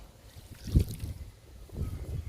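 Kitchen-waste liquid fertilizer is poured onto the soil around a young drumstick plant, heard as two soft, low, gurgling splashes about a second apart. It is faint and there is no talking.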